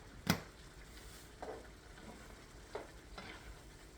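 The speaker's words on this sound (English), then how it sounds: "I'm going to stir in this little bit of lemon zest that I got." Lemon zest being stirred into a pan of creamy garlic corn chicken, giving a soft scrape at the start and a few fainter scrapes spaced through the clip over a low sizzle.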